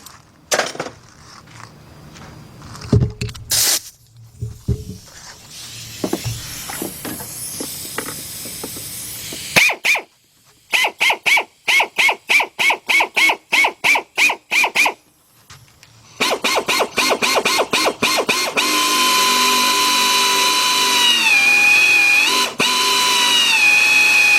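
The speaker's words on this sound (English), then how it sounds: "now in order for this to be successful, I have to drill down until I get into that channel." A power drill whirs in short bursts and rapid stutters against engine metal, then settles into a continuous loud grinding whine near the end.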